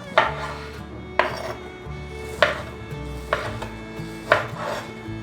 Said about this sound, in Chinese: 把大豆素肉球切成片状